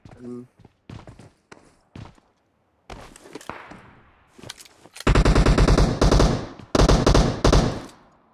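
Automatic gunfire in the mobile battle royale game PUBG Mobile, starting as scattered single shots and footstep-like thumps, then loud sustained bursts of rapid fire near the end, with brief pauses between bursts.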